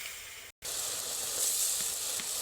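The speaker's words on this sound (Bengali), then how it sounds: "চিনিটা ভালোভাবে গলে গেছে, জলটাও ফুটে ফুটে এসছে।" Sugar syrup boils in a pan for a fruit preserve, giving a steady close hiss and soft sizzle that fills the moment with only a brief drop near the start.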